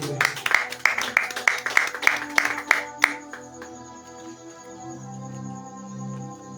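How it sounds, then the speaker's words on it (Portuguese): Rhythmic hand clapping from a church congregation at a Brazilian Apostolic Faith in Jesus service, a steady beat of about a dozen claps, then a sustained keyboard or organ chord after the clapping stops. "Bate palmas para Jesus, igreja."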